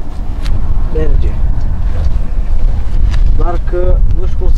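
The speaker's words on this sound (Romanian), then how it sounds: "Oricum, bate vântul serios." Strong wind blows at a fishing spot, a loud continuous rumbling buffet across the microphone, with people talking briefly over it.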